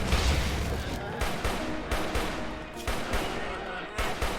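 Gunfire in RimWorld during a colony fight against bears, rapid volleys of shots and bursts crackling one after another, loud and nearly continuous with brief gaps.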